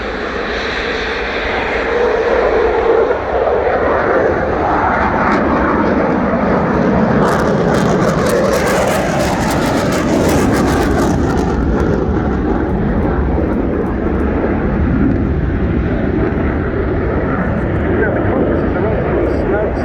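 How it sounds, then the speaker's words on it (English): Two Austrian Air Force Eurofighter Typhoon jets take off at an air show, building into a loud, sustained roar that peaks with a harsh crackle midway and stays strong. Commentary continues beneath the engine noise. "here they go, the two Austrian Air Force Eurofighter Typhoons"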